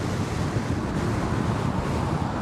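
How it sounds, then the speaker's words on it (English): Gusty wind roars across a rider on a heavy Sherman motorcycle as steady, loud broadband buffeting with no break over a few seconds. "We do have some gusty winds going on right now."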